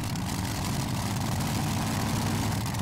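A local pulling tractor idles at a Eurocup tractor pulling event in Brande, Denmark, giving a steady, loud, low rumble with no break and no voices.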